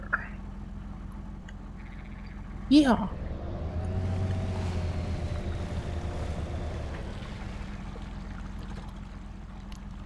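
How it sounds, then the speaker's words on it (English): Heavy truck in Spintires: MudRunner splashing through water, a sudden loud splash followed by sustained churning wash and engine rumble, with a brief voice over it. "Splashing through the water."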